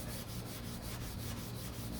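Glaze is sanded on the deck lid of a 1969 Corvette, producing a continuous, even rubbing and scratching with a faint back-and-forth rhythm up close.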